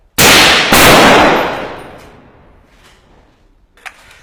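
Soldiers fire two loud, close gunshots in quick succession during urban combat against ISIS in Marawi, each blast ringing into a long echoing tail that fades slowly, followed by a faint distant knock.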